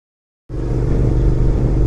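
A 2nd-generation Suzuki SV650S motorcycle rides and corners at speed, its engine cutting in abruptly after a moment of silence as a loud, steady, close low drone with rushing wind.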